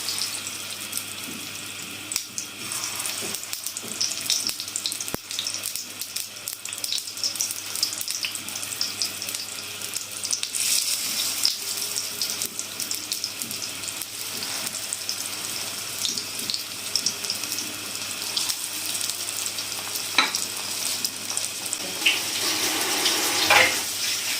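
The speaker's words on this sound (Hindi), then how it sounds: "ऑयल हमारा गर्म हो चुका है, अब हम इसमें एक एक करके अपने शामी कबाब रखते जाएंगे।" Mutton shami kebabs fry in hot oil, a steady close crackling sizzle with scattered pops that continues throughout and grows slightly busier toward the end.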